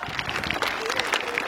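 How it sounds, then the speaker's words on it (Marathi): Audience applause at a primary school event in Kadegaon, a short burst of dense clapping from a gathered crowd, with voices mixed in. "जोरदार टाळ्या वाजवा।"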